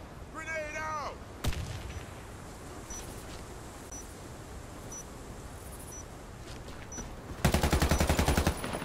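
Gunfire and a grenade blast in the Warface bomb-plant mode on the Pyramid map, with a sharp burst near the start and a rapid, loud volley of shots near the end over a quiet game ambience.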